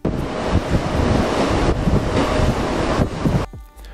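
Stormy sea surf crashes beside a pier at Palanga on a windy autumn afternoon, a loud continuous roar of waves mixed with heavy wind buffeting the microphone, ending abruptly.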